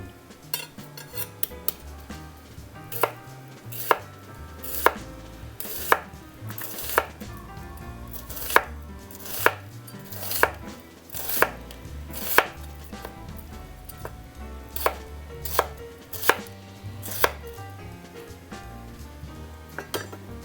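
A knife chops onion on a cutting board while Japanese-style Napolitan spaghetti is prepared, producing steady, crisp, evenly spaced thuds close by that continue throughout with no talking.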